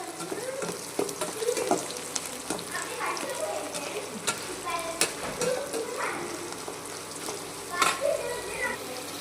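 Chillies fry and sizzle in a pan while a spoon stirs them, giving a steady crackling hiss with scraping strokes and occasional water sounds, and a person speaks faintly over it.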